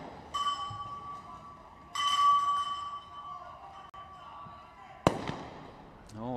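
Sniper rifle shots aimed at targets during a SWAT competition event, a few sharp cracks with long gaps between them, heard over a steady electronic tone and faint commentary.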